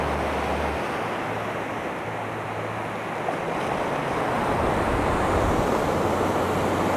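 Incoming tide waves roar up Plum Island beach in a continuous, loud surf wash that swells slightly toward the end, with no voices.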